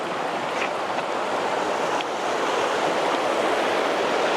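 A river flowing along the Inca Trail at a crossing point, heard as a steady, loud broadband rush of water with no pauses or voices.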